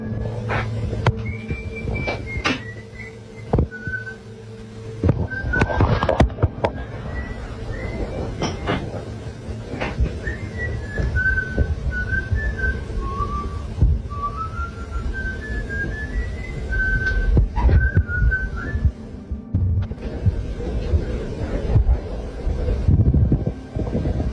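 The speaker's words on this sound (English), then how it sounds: "they're woken up to the sounds of someone whistling coming from downstairs" A person whistles a wandering, melodic tune in short phrases, somewhat distant, as if from downstairs in a house, over a low rumbling background with occasional thumps.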